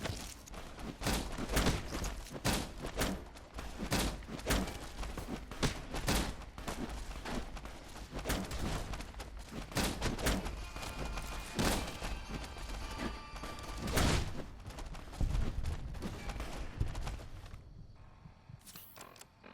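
Gunfire from the Fallout: New Vegas video game as super mutants are killed in Jacobstown, a dense run of sharp shots and thumps that fires steadily for about eighteen seconds before stopping abruptly, with no talk over it.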